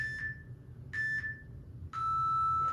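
Three electronic beeps from an interval timer during a dumbbell workout: two short high tones about a second apart, then a longer, slightly lower tone held to the end.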